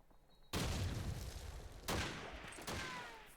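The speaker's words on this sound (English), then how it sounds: "Fires into the smoke and misses." Gunfire in Call of Duty 2 during a 3v3 competitive match, with three loud sharp reports, each trailing off into a decaying echo and spaced unevenly about a second apart, with no talk over them.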